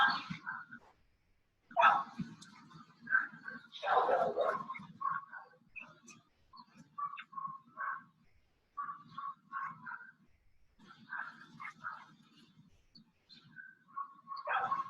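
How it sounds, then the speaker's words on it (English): A well-matched pair of dogs play together, giving intermittent short barks, yips and growly vocalizations. The sounds come in irregular bursts separated by quiet gaps and are moderately close. "Really cool, really well matched pair of dogs here."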